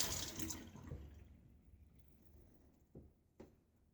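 Water runs over a shaving brush as it is rinsed under a tap, a close splashing rush that fades to quiet within a second or so, followed by two brief drips or taps.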